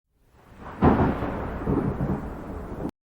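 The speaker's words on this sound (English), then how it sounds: "The loud thunderstorm rattled my bones" A loud rumble of thunder cracks and rolls for a few seconds with rain hissing underneath, then cuts off abruptly.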